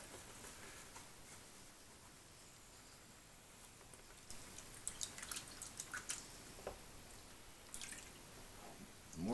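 Water and material slosh and drip in a gold pan as it is shaken, with quiet splashes that become choppier in the second half, heard close and alone.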